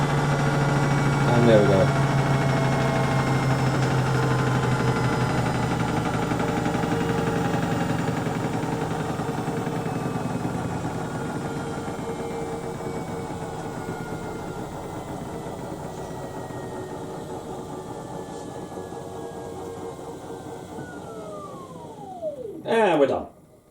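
A Beko WTL64051S washing machine winds down from a long spin on a Down Wear 40°C cycle, a steady loud whir and hum that slowly fades and drops in pitch before a brief clatter at the end, with a voice speaking briefly.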